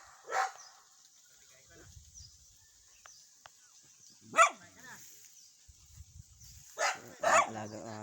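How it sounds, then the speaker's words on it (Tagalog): A dog barks sharply now and then, a single bark followed after a gap by a few more, loud and fairly close over a quiet background. "Alagang aso."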